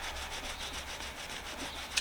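Rapid back-and-forth rubbing strokes scrub paint off a Snap-on tool, a steady close abrasive swish with a brief sharper click at the end.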